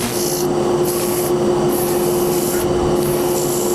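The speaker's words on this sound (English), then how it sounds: "I'll get some fresh sandpaper and I'll start on the outside" Fresh sandpaper rubbing turned wooden beads on a lathe, a loud continuous scratchy hiss in rhythmic strokes over a steady motor hum, dust collector running.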